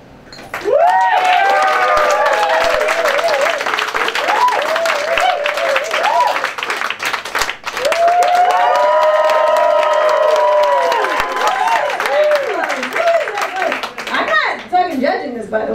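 Audience at a comedy roast battle bursts into loud applause with cheers and whoops, two big waves of clapping and shouting filling the room, dipping briefly in between before swelling again.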